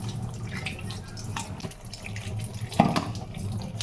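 Chillies are washed under a running kitchen tap, with a steady close stream of water splashing and gurgling in the sink and occasional louder splashes as the chillies are rinsed.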